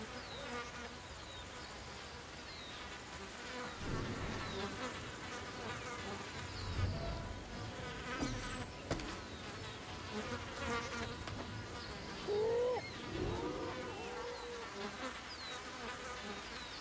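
Bees buzz continuously in the outdoor wilds of Ancestors: The Humankind Odyssey, a dense droning hum with individual insects swelling closer at moments, heard alone over faint ambient rustle.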